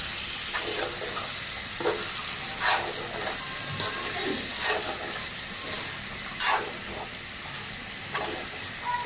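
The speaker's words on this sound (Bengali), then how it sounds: "এখন আমি এগুলাকে আর একটু নাড়াচাড়া করে দিব, না হলে হচ্ছে মশলাগুলো নিচে লেগে যাবে।" Chicken pieces coated in spices frying in a pan while being stirred, a steady sizzle with scraping stir strokes every couple of seconds, close and clear, no talking.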